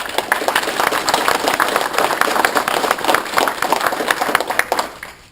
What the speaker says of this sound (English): let's start off by giving these installing officers a nice round of applause